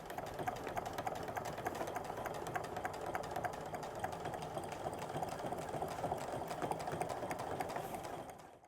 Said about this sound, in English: now we're gonna top stitch an 1/8 of an inch seam along both of these sections